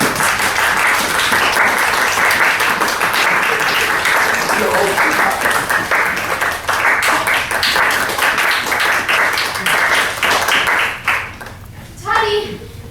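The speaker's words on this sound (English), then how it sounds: "Clap if you believe." A theatre audience at a stage performance of Peter and the Starcatcher bursts into dense, sustained applause for about eleven seconds, loud and close, before it thins out and a voice speaks briefly.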